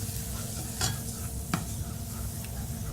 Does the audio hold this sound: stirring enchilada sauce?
yes